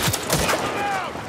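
Gunfire in The Last of Us Part II, a couple of sharp close shots in quick succession at the start followed by a ringing tail and game ambience, with a voice briefly underneath.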